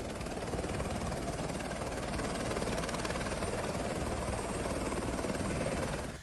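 A helicopter on a helipad gives a loud, steady rotor and engine roar that holds evenly for the whole stretch and then drops off slightly at the very end, with no voices.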